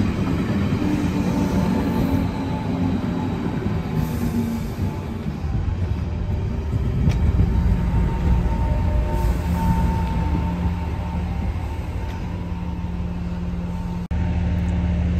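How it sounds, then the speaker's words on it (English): A train arriving at Padborg station in Denmark, a steady low rumble and hum of the train close by with faint squeals and rattles, one sharp clunk near the end and no talk. "So the train has arrived,"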